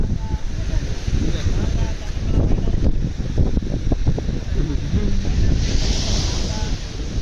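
Sea waves breaking on the beach at Tiruchendur temple, a loud continuous surf roar with repeated crashing swells and wind buffeting the microphone.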